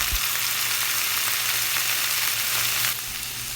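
Potatoes cut like French fries drop into a pan of onions frying until light brown, setting off a loud, steady sizzle that carries straight through and eases slightly near the end.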